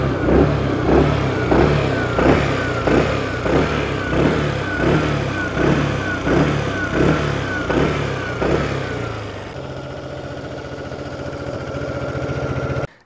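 A 2022 Aprilia SR GT 125 compact city scooter rides along, its small engine pulsing in rhythmic surges before settling into a steady lower hum, close and moderately loud.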